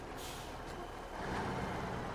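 A heavy off-road truck in SnowRunner, driven on Hard Mode, drones with a steady low engine rumble that swells a little louder partway through, with a faint hiss above it and no talk.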